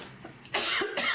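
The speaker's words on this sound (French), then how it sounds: "j'ai la gorge sèche, puis je tousse en plus" A dry-throated person coughs a couple of times, a short, close, loud burst with a throat-clearing rasp, alone with no speech.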